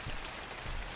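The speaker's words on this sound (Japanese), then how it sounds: "うわ、雨降ってきた。" Rain falls steadily in the survival video game Ark: Survival Evolved, a dense, even hiss of drops on the ground with no voices and no pauses.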